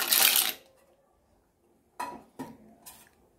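Cut clams tipped from a dish into a pan of masala: a burst of clattering and scraping, a pause, then several separate clinks of utensil against metal.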